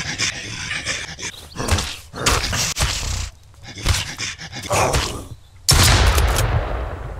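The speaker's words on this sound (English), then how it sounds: "And he's turning around. And then blasting with the shotgun." Shotgun blasts fired in the survival game Mist Survival, several loud, sharp bursts spaced through the stretch, with a final heavy blast ringing out near the end.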